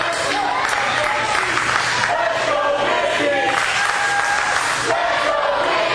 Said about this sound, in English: the crowd chanting for Mickie James as they're rallying behind her